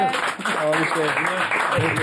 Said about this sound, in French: On applaudit Michel.